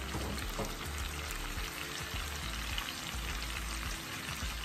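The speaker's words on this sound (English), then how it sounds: "we're going to let this saute for about 15-20 minutes." Food sautés in a pan for a home soul food meal, a steady dense crackling sizzle that holds evenly throughout with no talking.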